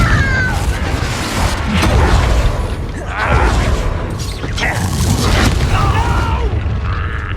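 In the Hogwarts Legacy video game, Confringo blasting spells go off as several heavy booms and crashing bursts, spaced a second or two apart, amid clattering mechanical game effects.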